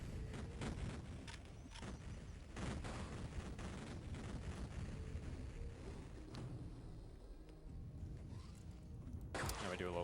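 Explosions and gunfire in the first-person shooter Duke Nukem 3D, a dense run of overlapping booms and blasts with a sharp burst near the end, close and loud.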